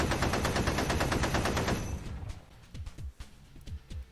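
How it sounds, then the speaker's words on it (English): Heavy machine gun barrage in a Lancer RPG tabletop session, heard as a dense rapid burst of gunfire for about two seconds, then scattered fainter shots and thumps trailing off. "I am going to barrage with the heavy machine gun first"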